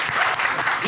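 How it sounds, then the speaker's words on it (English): A short burst of audience applause for a band at a live festival show, dense clapping heard up close and steady through the moment. "can we a round of applause, please, for Stuart and his band"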